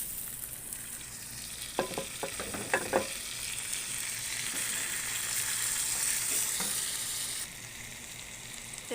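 Eggplant, onion and green chili are tipped together into a hot pan, a burst of clattering stirs giving way to a steady, bright sizzle that drops slightly in level near the end.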